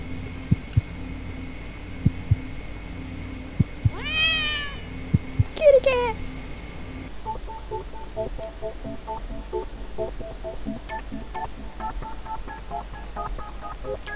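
In the video game The Cat Lady, a cat gives two short meows over a steady electronic hum and faint ticking game sounds; a sparse beeping pattern follows.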